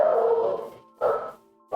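Dog in a survival video game letting out three bark-like yips, each followed by a short pause, clear and close with no other sounds.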